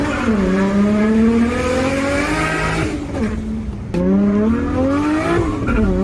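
A 700hp Nissan R32 GTR with an RB26 engine races through a residential subdivision, loud and close, its revs climbing in rising sweeps between gear shifts, with a sharp break and renewed acceleration partway through.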